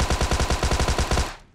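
A Tommy gun in PUBG Mobile fires one fast, evenly paced automatic burst of about a dozen loud, close shots, ending with a short fading tail.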